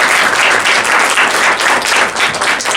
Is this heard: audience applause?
yes